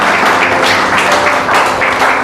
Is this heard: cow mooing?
no